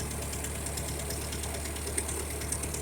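A Ferguson TO-35 tractor engine runs steadily in low second gear. Its low, even knocking chug continues throughout, moderately loud and with no speech over it.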